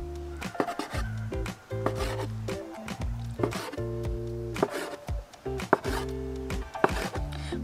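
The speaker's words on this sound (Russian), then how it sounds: "Так вот, края делаем ровненько. Режем на кусочки." A knife cuts a rolled chicken and vegetable strudel made with yeast dough into pieces, producing a run of close, sharp chops and thuds on a board over tonal background music.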